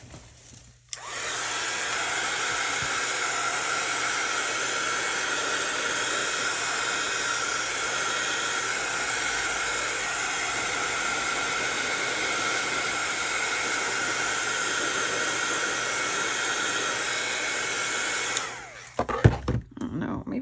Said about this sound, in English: guess I should blow or air dry or hit it with my heat gun